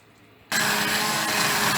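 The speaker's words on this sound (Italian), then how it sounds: "andiamo a frullare con un frullatore a immersione i nostri piselli" An immersion blender switches on abruptly and whirs loudly and steadily as it purées cooked peas into a smooth cream, following a brief quiet moment.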